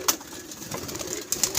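Pigeons kept at a pigeon club coo and flutter nearby, a steady busy bird texture with a few brighter calls and wing sounds rising briefly near the start and end.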